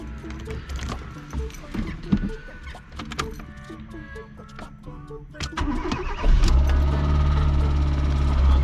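A 1999 Fiat Seicento engine cranks and catches after sitting for two days, with clicks and rustling first, then the engine roaring into a steady loud idle over the last couple of seconds.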